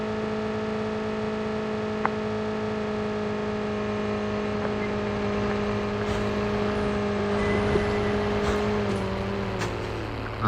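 A vehicle engine drives in the Call of Duty Mobile video game, a steady, fairly loud tonal motor hum with a few gear-like shifts and brief clicks, sliding downward near the end.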